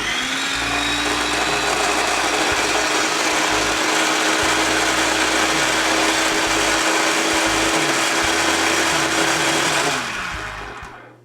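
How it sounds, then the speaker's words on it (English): A blender runs steadily, purees French onion soup ingredients, and grinds loudly and continuously for about ten seconds before it winds down and stops. "we're going to finally blend into a puree"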